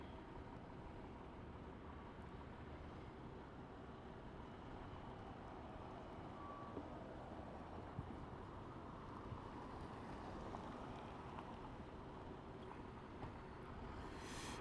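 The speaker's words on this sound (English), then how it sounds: "There are trucks going in and out of the place." Heavy trucks rumble in and out of a stadium construction gate amid steady low traffic and site noise, a continuous distant drone with no clear single pass-by.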